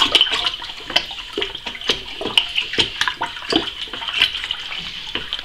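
A Campden tablet being stirred into elderberry wine must, heard as close, repeated liquid swishes and clinks of the stirring utensil against the vessel, in an uneven rhythm with no speech.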